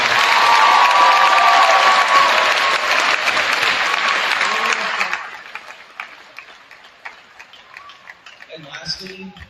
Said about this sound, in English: I want to give another round of applause to Noemi and Mom.